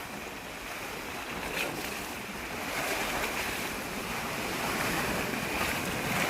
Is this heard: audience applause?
no